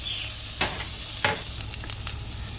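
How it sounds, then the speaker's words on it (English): Onions sizzle steadily in a pan for spaghetti, a continuous close frying hiss broken by a couple of sharp scraping stirs and some clinking near the end; no voices. "we're putting some onions in so we can add some flavor to the spaghetti"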